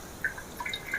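Liquid is added little by little into milk curdling for chhena, producing small scattered drips and trickles, faint and close, with no talk.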